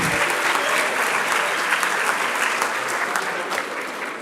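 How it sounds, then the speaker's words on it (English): Sustained applause from a Match Day ceremony audience at SUNY Downstate honoring faculty and staff, a dense, even wash of clapping from a large crowd with a faint voice underneath at the start. "Can I have a round of applause for the faculty and staff here in the back?"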